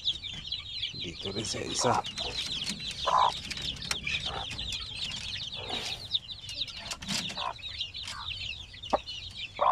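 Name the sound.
native mother hen clucking while being fed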